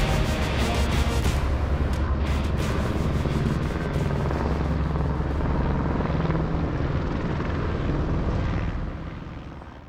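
Medical flight helicopter in flight, a loud, close, steady rotor and engine roar with rhythmic blade chop that fades slightly at the end.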